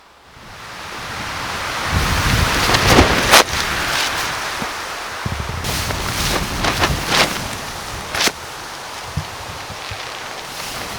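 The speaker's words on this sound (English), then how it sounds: "So quite windy night." Strong wind roars over a Swedish island at night while ocean waves rush and surge against the shore, a steady heavy din broken by gusty buffeting on the microphone and no voices.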